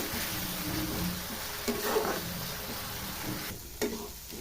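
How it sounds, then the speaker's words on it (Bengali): A spice paste is sautéed with a splash of water while a potato and broccoli dish cooks, giving a continuous close sizzle with scraping stir strokes and a couple of brief clattering knocks. "জলটা অল্প অল্প পরিমাণে দিয়ে মশলাটা ভালোভাবে কষে নিতে হবে।"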